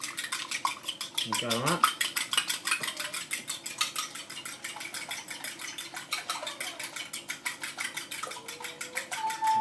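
Fruit cake batter being beaten with milk in a bowl: a steady, rapid clatter of a utensil against the bowl runs throughout, with a brief voice speaking over it.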